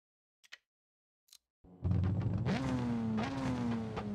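A drift car's engine in the CarX Drift Racing Online 2 video game revs up after a few faint clicks, then holds a loud, steady rising drone with harmonic climbs as the throttle is pushed.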